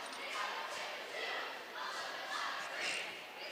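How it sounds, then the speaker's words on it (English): Cheer squad and students cheering at a high school girls volleyball regional semi-final, a continuous wash of crowd voices swelling and fading in the gym, with no single voice standing out. "Good student population standing, cheering them on."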